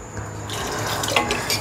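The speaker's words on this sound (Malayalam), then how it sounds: "ഇനി നമ്മൾ ഇതിനകത്തേക്ക് ഒരു കപ്പ് വെള്ളം കൂടി ചേർക്കാം" Water poured from a cup into a pot of papaya tamarind curry (pulinkari), a steady splashing trickle that runs continuously for a moment close by.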